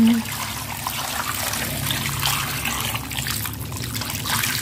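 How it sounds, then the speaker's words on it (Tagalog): Water is poured into a pan of cooking chicken. A steady close trickle and splash of liquid continues throughout, with faint simmering underneath and no one talking. "Lagyan ko na siya ng water."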